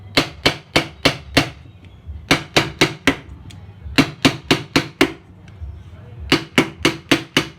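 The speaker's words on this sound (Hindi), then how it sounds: "बस आपको हथौड़ी से हल्के हल्के इन पेंचों को ठोकना है।" A hammer taps lightly on rusted screws of a ceiling fan, producing crisp metallic knocks in quick groups of four to six, close and clear with short pauses between the groups.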